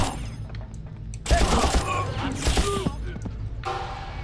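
A machine gun in Far Cry fires in bursts, loud rattling volleys with thuds and debris, after a quieter stretch of game ambience.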